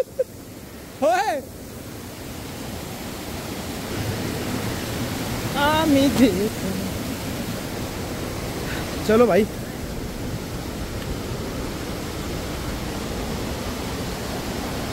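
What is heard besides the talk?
waterfall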